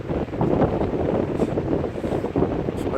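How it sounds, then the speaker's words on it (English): Steady gusty wind buffeting at a beach, a continuous broadband roar with no voices, filling the whole stretch at a fairly loud level. "Bit of a windy, rough day today."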